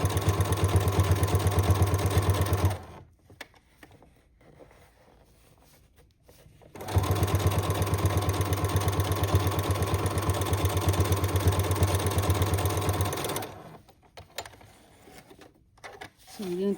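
A sewing machine runs straight stitches along the edge of a piece of fabric, making a steady mechanical whir. It comes in two sustained bursts separated by a quiet pause, close and fairly loud.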